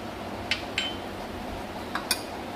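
A spoon stirs grated raw mango with salt and optional turmeric in a bowl, giving four sharp, brief clinks against the dish, two early and two near the end, over a quiet background.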